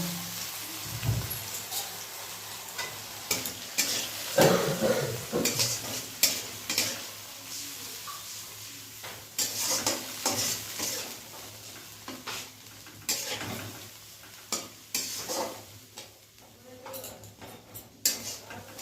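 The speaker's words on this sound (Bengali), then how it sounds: "দিয়ে মশলাটাকে একটু কষিয়ে নেব।" Spice masala with coriander powder and a pinch of sugar sautéing in a pan for an egg curry: a steady low sizzle under frequent close scraping and clattering of a spoon against the pan, loud and irregular.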